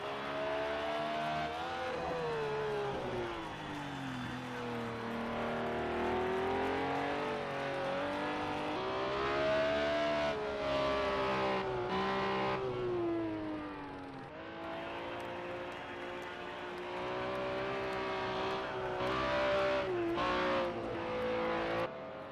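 BMW M1 Procar racing engines in Project CARS 2 at Hockenheim, a shifting chorus of revving, rising and falling engine notes from several cars, with gear changes and passes layered over one another for a long stretch without talk.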